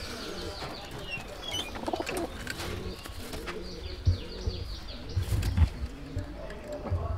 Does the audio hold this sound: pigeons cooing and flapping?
yes